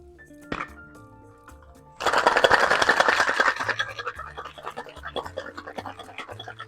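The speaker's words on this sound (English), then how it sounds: "Add ice. And shake for about 12 to 15 seconds." Cocktail shaker shaken hard with ice and cream of coconut for a pineapple drink, a dense rattling burst that starts abruptly and continues steadily, then tapers, following a few quieter clinks and handling sounds.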